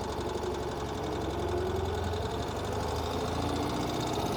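Engine of a 2023 Ural Gear Up sidecar motorcycle pulling steadily as it gathers speed, a continuous close, even drone with low rumble and no voices.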